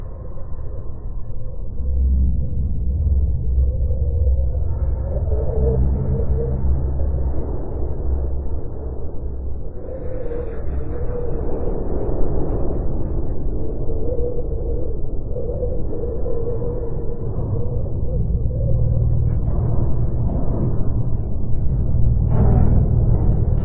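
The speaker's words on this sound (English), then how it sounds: "This is the sound of Mars." An electronic sci-fi sound effect meant to portray Mars: a deep, continuous rumbling drone with a wavering mid-range tone and swelling, windy textures, sustained and fairly loud with no voices.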